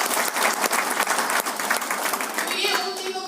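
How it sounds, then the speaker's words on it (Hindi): Audience at a gathering honouring an RCM leader breaks into applause, dense clapping from a nearby crowd sustained for a few seconds, then fading as voices and sharper tones come through. "तालियां बजा दीजिए।"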